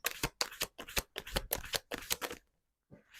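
Tarot cards shuffled and drawn by hand, a close run of quick riffling, slapping bursts broken by brief pauses, then a short silence and one last soft card sound.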